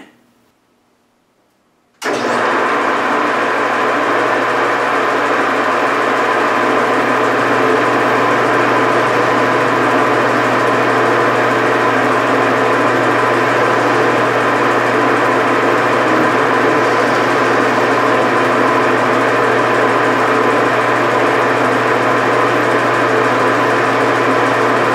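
After about two seconds of near silence, a lathe spins up and runs steadily while machining screws from hex bar, a loud constant motor hum with a bright mechanical whine that holds unchanged throughout.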